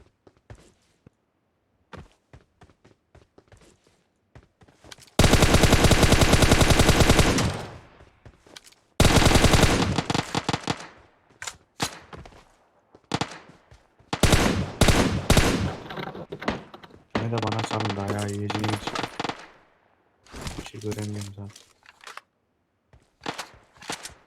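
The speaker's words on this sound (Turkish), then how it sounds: "Uziyle bayağı vurdum" Uzi submachine gun fire in the PUBG Mobile video game comes in several sharp automatic bursts, some long and some short, separated by quieter gaps with faint footstep-like taps.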